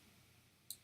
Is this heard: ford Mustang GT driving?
no